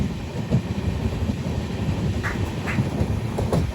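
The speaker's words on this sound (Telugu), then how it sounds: "అవన్నీ బాతులు మేపుతున్నారు" Ducks being herded near a railway line, passed by the Vivek Express from Kanyakumari to Dibrugarh: a steady, loud train rumble fills the background while a few short quacks break through near the middle and end.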